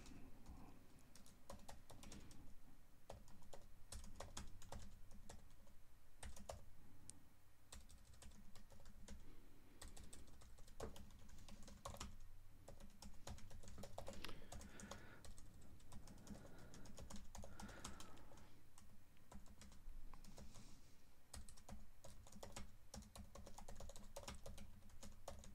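Quiet, continuous typing on a computer keyboard, with rapid irregular key clicks running steadily throughout at close range.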